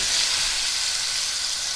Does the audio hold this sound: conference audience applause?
no